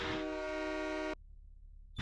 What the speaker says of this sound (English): The train horn works with the low power mode.